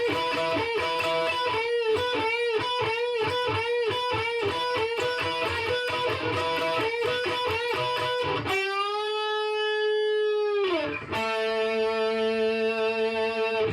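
An electric guitar plays a solo through a distorted tone, first a fast run of picked repeated notes, then a long sustained bent note with vibrato, a brief cut, and another held note.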